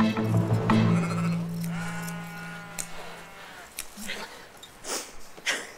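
A sheep being sheared on a Norwegian farm gives a drawn-out, wavering bleat close by, followed by snorts and handling noises, with voices in the background.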